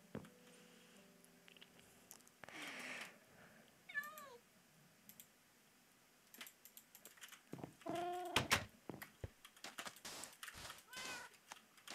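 A cat in the Minecraft video game meows several times, short high mewing calls scattered across a quiet game soundscape with faint clicks and a few other game sounds.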